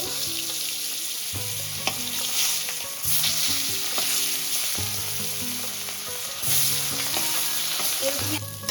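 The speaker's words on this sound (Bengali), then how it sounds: "অল্প করেই তেলটা দিয়েছি গরম হয়ে গেছে তো এবার দিয়ে দেবো আমি একে একে মাছগুলো" Boal fish frying in hot mustard oil gives a loud, continuous sizzle and crackle, broken by repeated scraping and stirring strokes in the pan, with no voices.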